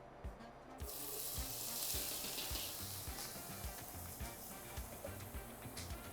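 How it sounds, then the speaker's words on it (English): Yellow onion sautéing in shimmering oil, a bright sizzle that flares up as it hits the pan, with rhythmic scraping stirs and clicks running beneath, close and steady with no talk. "we're going to start sauteing some of the vegetables that are going to add a lot of flavor to this dish"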